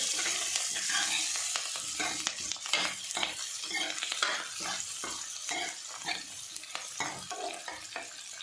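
Onions and red chillies fry in a pan, a constant sizzle broken by quick, repeated scraping strokes of stirring, close and fairly busy, with no voices.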